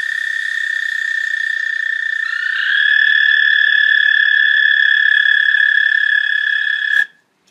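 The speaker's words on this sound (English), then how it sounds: "Its call is a long, sweet trill." American toad giving its call, a long sweet trill held steady and loud, rising a little in strength partway through before cutting off abruptly near the end.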